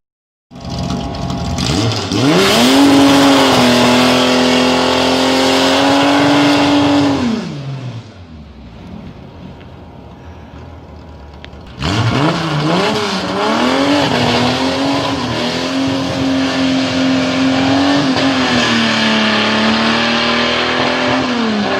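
Plan Z Dart drag car, converted to a Torqueflite automatic, launching on the street: a loud engine scream rising and holding, cutting out abruptly, then a second roaring pull with shifting pitch, close and alone.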